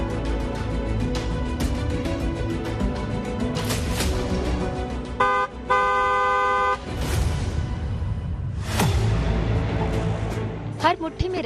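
A vehicle horn gives one sustained, loud blast in the middle of busy street noise, with voices and other sounds around it.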